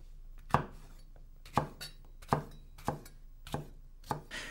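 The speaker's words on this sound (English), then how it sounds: "Now peel the banana and roughly chop the skin." Knife chopping banana skin roughly on a cutting board: six sharp, evenly spaced chops ring out close and clear, each a crisp thud with a brief tail, with no voices present.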